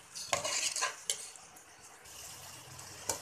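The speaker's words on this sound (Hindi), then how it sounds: "टमाटरों को भी खूब अच्छे से भून लेंगे।" Tomatoes stir-frying with spices for palak keema, a faint soft sizzle broken by a few sharp scrapes and clinks of a spoon against the pan, with no talking.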